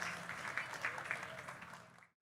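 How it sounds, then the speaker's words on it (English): A conference audience at a Bitcoin festival panel claps steadily at moderate distance, fading out at the end. "Please, a round of applause."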